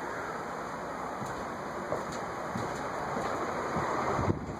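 A white Nutone 56-inch Proline commercial ceiling fan runs with a steady airy whoosh and a constant high whine, faint and even, with a few soft ticks.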